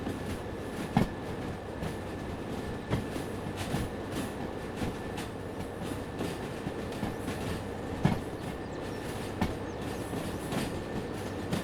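A long freight train rolls along in the Derail Valley railway simulator, a steady low rumble of wagons with periodic clickety-clack wheel thumps over rail joints and faint squeal, continuous throughout.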